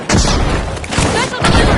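A frag grenade goes off in a video game, a loud burst of explosive booms and rattling blasts packed into under two seconds, close and dense.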